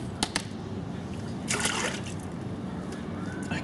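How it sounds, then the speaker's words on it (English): Water sloshes and splashes as a paint pot is rinsed out, with a couple of sharp splashes early on and a louder swirl midway, fairly quiet and close. "Right, we'll wash my pot out."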